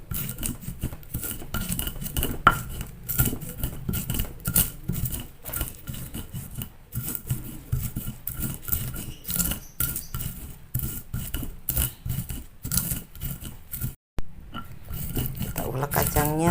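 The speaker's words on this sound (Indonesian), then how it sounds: "Ulek kacangnya teman-teman sampai halus ya." Peanuts are ground with a stone pestle in a stone mortar, giving continuous close, rhythmic scraping and grating strokes with occasional knocks of stone on stone.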